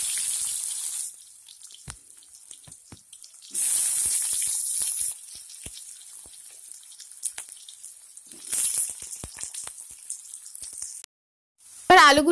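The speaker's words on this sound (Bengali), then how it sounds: "ফোড়নটা একটু ভাজা ভাজা হলে এর মধ্যে দিয়ে দেব আলু।" Potatoes frying with whole five-spice (panch phoron) in mustard oil in a karahi, a loud sizzling hiss that swells in bursts and settles between them, with no one speaking.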